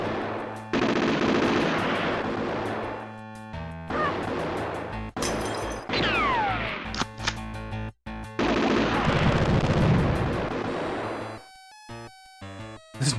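Dense, loud video game gunfire in a shootout, sustained automatic bursts and single shots overlapping with music and crashing effects, nearly continuous for most of the stretch before dropping away near the end.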